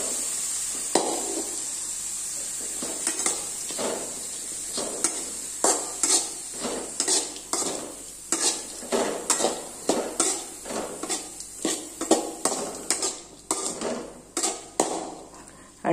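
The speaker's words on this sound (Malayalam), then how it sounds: "ഈ തക്കാളി ഒന്ന് സോഫ്റ്റ് ആവുന്നിടം വരെ നമ്മളൊന്ന് ഇളക്കി കൊടുത്തുകൊണ്ടിരിക്കണം." Tomatoes stirred in a pan for garlic rasam: a steady run of spoon scrapes and light metallic knocks against the pan over a soft sizzle, close and fairly loud, with no talking.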